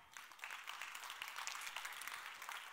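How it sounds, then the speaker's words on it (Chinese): A seated audience at a skincare product seminar applauds. The clapping is faint and distant, a soft continuous patter that carries on for a few seconds without a break. "我们给他们一个掌声好不好？"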